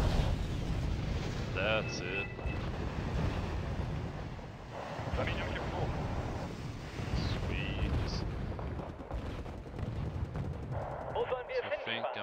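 Rumbling booms of cannon and artillery fire roll on continuously in a Wargame: Red Dragon battle, with people talking briefly over the noise.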